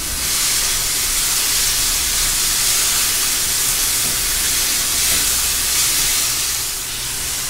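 Three cloves of minced garlic sizzle in a pan with softened diced vegetables, giving a steady, loud, broad hiss that holds evenly throughout with no talking.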